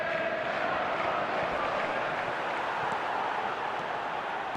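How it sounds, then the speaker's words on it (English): A stadium crowd in the football game eFootball roars in a steady, dense wash of cheering that stays constant and fairly distant, with no distinct voices standing out. "the crowd level has gone up a notch or 10"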